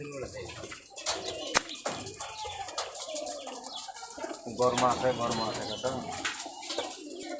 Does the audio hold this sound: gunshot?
no